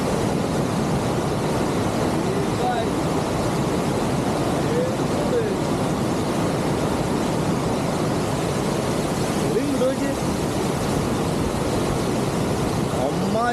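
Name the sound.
waterfall on the Siruvani river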